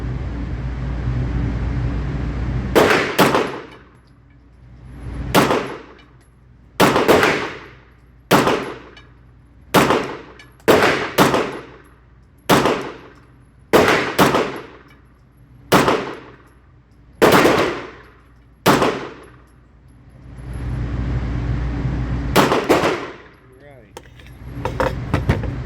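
9mm Bul Armory SAS2 Tac Govt pistol firing a slow string of about a dozen sharp, loud single shots at an outdoor range, each a hard crack with a brief ringing tail, separated by pauses of roughly one to two seconds.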